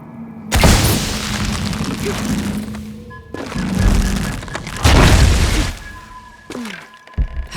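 Heavy booming blasts in Shadow of the Tomb Raider roar loud and close, several bursts with rumbling tails separated by brief lulls, and no talking.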